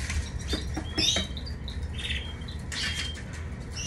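Canaries in small cages give short, bright chirps and tweets with bursts of wing flapping and light rustling, close by against a low background rumble.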